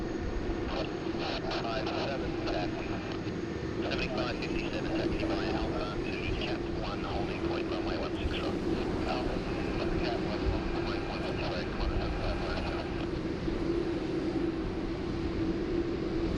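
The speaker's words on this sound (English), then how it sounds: "we are getting the Fiji Airways A330 taxiing up to, we hope, the full length" A Fiji Airways A330 airliner taxis at Sydney Airport, giving a steady broadband engine rumble with a constant whine that holds level throughout, and faint voices mixed in underneath.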